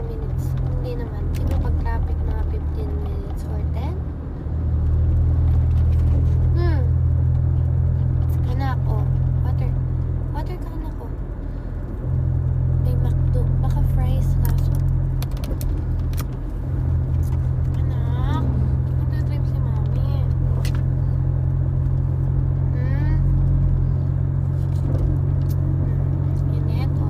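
Inside a car on a roughly 10-to-20-minute drive, a steady low engine and road rumble runs throughout while a person talks over it.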